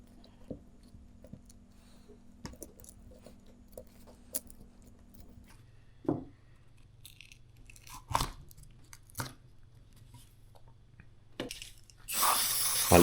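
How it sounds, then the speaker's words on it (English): Brake cleaner sprays onto a Mini Cooper S R53 brake caliper in a short, loud hiss near the end, after quiet handling clicks and small taps on the part. "A little brake cleaner."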